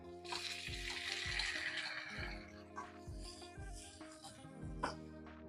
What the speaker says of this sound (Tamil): தக்காளி வதங்கி வந்துட்டுது